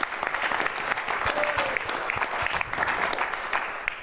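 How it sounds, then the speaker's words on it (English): Club members at a meeting give a sustained round of applause, a dense, fairly close crowd of many hands clapping steadily for several seconds, with a few louder individual claps standing out. "Give yourself a round of applause."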